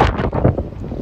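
Gusty wind buffeting the microphone in loud, low rumbling bursts, close and continuous for a moment, on a cold afternoon street in Jerusalem.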